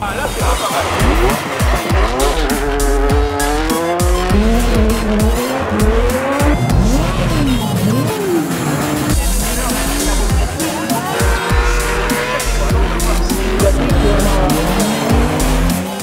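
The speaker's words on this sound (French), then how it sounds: "Des sensations de la voiture qui glisse, de la voiture qui redémarre, de démarrer à l'envers dans des courbes" A 350 hp four-wheel-drive Trophée Andros ice racing car at Val Thorens, sliding on an icy track with a loud, continuous engine howl that rises and falls through gear changes, plus tire squeal and skidding, close and unbroken throughout.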